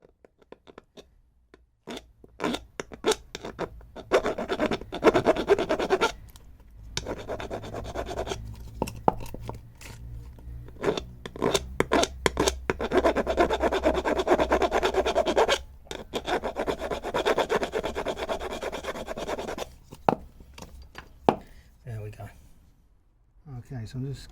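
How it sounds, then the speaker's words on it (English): Steel file rasping along the sides of a part during a Fiat 500 front strut replacement: steady back-and-forth strokes, close and fairly loud, with brief pauses between runs. "let's just smooth off those sides with a file."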